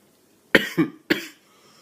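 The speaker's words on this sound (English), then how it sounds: "damn this cough" Three quick, harsh coughs in a short burst, close and loud, with silence before and after.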